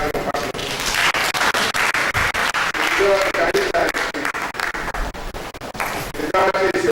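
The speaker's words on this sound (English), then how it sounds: "Can we just give her a round of applause?" Applause from a conference audience for a speaker at a thrombosis medical event, steady clapping with rhythmic pulses throughout, sounding somewhat compressed, with voices mixed in.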